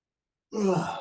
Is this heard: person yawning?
yes